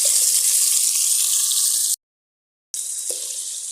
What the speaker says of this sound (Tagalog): ginigisa ko na po ang ating bawang, ang ating sibuyas, at ang ating luya